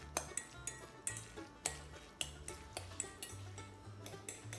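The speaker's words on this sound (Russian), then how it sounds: "Так хорошо перемешиваем." A spoon stirring a canned tuna fish cake mixture with egg, soy sauce and lemon juice in a bowl, giving a steady series of light clinks and taps against the bowl under soft music.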